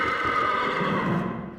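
A Malet horse from the Vendée gives a loud, close neigh in one sustained whinny that fades toward the end.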